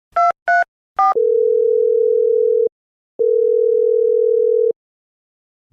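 Phone placing a call: three short dial beeps, then two long, even ringback tones separated by a pause of silence, clear and loud.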